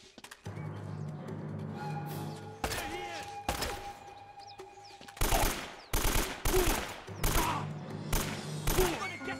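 Gunfire in Uncharted: Drake's Fortune, loud bursts of automatic fire and single shots coming in repeated volleys over a steady game background hum, growing heavier in the second half.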